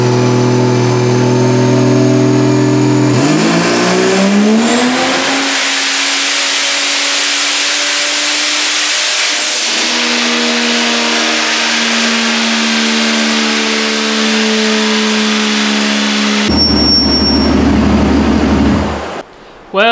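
A turbocharged Vortec 4200 inline-six on a dyno pull, loud and close, climbs in pitch through a sustained rev, drops back briefly, then runs hard again with a rough, stuttering ignition breakup before cutting off near the end.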